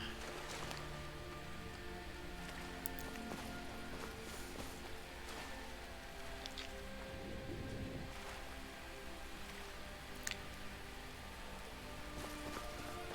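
Rain in the video game Skyrim patters softly and continuously in an Arctic landscape, a faint steady hiss with occasional small ticks and muffled footstep-like thuds under quiet background music.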